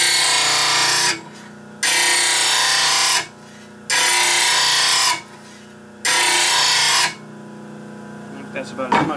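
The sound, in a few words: new grinder tool cutting a bevel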